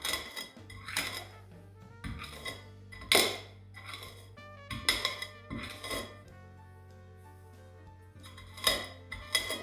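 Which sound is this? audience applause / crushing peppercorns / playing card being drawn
crushing peppercorns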